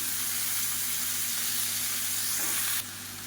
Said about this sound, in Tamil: இப்போ கத்திரிக்காயும் உருளைக்கிழங்கும் சேர்த்து நல்லா வதக்கியாச்சு